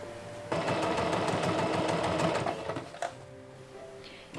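A sewing machine stitches a lining onto a cosplay sleeve flounce, running in a fast, steady mechanical rattle for a couple of seconds before slowing and stopping, close and clear with no talking.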